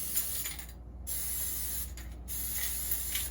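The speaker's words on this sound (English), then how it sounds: "So we're just spraying. Well, this is butter flavor." Butter-flavor cooking spray hisses from an aerosol can in a few steady bursts with short pauses, close and fairly quiet, while toast is readied for the oven.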